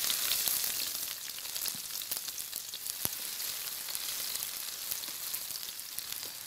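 Chopped onion and panch phoron frying in hot oil, a constant bright crackling sizzle at moderate loudness with one sharp tap near the middle, no voices.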